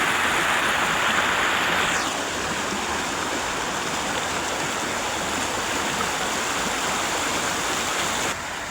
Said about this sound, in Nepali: यो भनेको अब हिमालबाट हिउँ पक्लेर आएको पानी